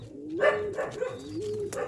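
Old line pigeons kept for sale give soft, repeated throaty coos close by, several rolling calls in a row.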